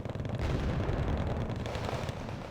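Grenade launcher fire in the Wargame: Red Dragon video game, a dense run of heavy booming blasts and explosions rolling together loudly, with no talking.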